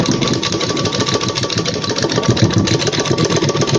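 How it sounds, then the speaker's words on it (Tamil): A sewing machine stitches cross-cut fabric without hemming, a loud, close, continuous rapid rattling drive that stays even throughout. "இப்போ இதை நம்ம ஹெம்மிங் பண்ணாமல் நான் உங்களுக்கு தையலே போட்டு காட்டுறேன் பாருங்கள்."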